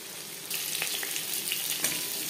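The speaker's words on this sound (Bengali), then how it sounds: "ভাজা হয়ে গেলে অপর সাইডটা উল্টে দেবো।" Silver carp fish pieces fry in mustard oil in a pan; after a quiet start a loud, close sizzle bursts in and continues steadily with scattered spitting pops, no speech.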